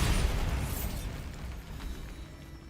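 Bombarda blast spell from Hogwarts Legacy, a loud booming explosion that bursts at the start and then rumbles and decays over a few seconds, with no voices.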